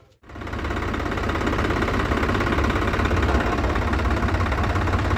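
A tractor engine starts up and settles into a steady, close, low rumbling idle with constant vibration, alone without talk.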